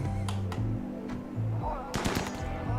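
Rapid gunfire bursts in the video game RimWorld, sharp repeated cracks in short volleys over a steady humming tone, loud and close.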